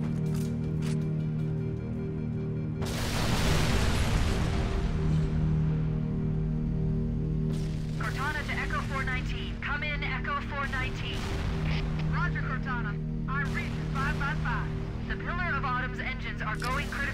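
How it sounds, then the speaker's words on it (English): Repeated explosions and gunfire from the first-person shooter Halo: Combat Evolved boom in bursts amid game sounds, with a player talking and chattering over the action. "Oh my god, so many explosions!"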